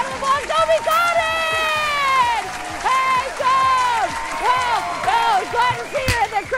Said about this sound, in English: Give a round of applause, Kobe Cotton!